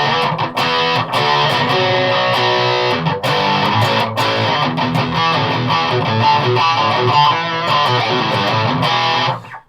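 A Boss Metal Zone MT-2W distortion pedal drives a loud, fuzzy, heavily distorted electric guitar playing chords and riffs continuously, alone, ending with a quick fade.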